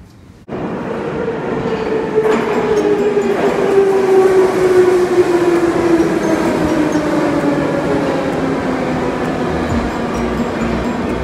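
A metro train rumbles loudly nearby at Hrushauka station in Minsk, Belarus, a steady roar with a falling whine as it slows at the platform, plus a couple of sharp clanks.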